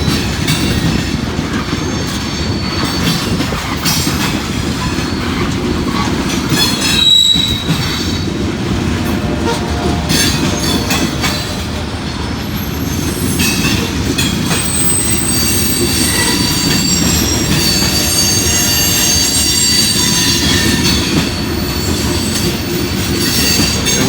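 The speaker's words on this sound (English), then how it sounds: "And we got loaded grain trains here." A loaded grain freight train rolls past on an old B&O line on a cold, windy day, a steady loud rumble of wheels with metallic squeals and rail clatter throughout, under gusty wind.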